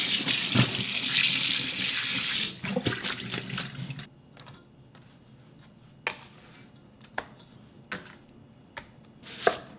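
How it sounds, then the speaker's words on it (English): Cold tap water runs hard into a sink over pork bones being washed, then cuts off, leaving scattered knocks, clacks and brief splashes of handling at close range. "So I like to wash it and clean it in cold water."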